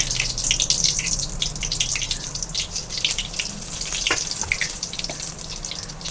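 Dried red chillies and coriander seeds fry in hot oil with a steady, close hiss and crackle, scattered sharp pops over a continuous sizzle, no talking.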